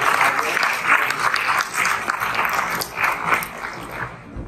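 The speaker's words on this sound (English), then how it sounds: "a round of applause for the" An audience at a Mediterranean diet roundtable event gives a steady, dense round of applause, many hands clapping together at close range and sustained throughout before cutting off at the end.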